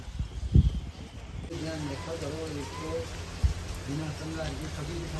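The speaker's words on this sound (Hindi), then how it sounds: "पर बहुत सारी बारिश होने लगी फिर से" Heavy rain falls outdoors by a cave shrine on a pilgrimage route, a steady close hiss with a few louder knocks as people talk over it.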